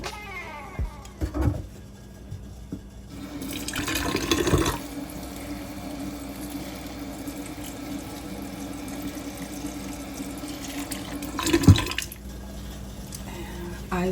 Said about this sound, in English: let's give it a good water.